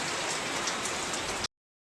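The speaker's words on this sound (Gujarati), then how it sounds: "જોરદાર વરસાદ ચાલુ થઈ ગયો" Heavy rain pours down in Palanpur during a sudden downpour, a dense, loud, unbroken hiss of drops striking surfaces close by, then cutting off abruptly.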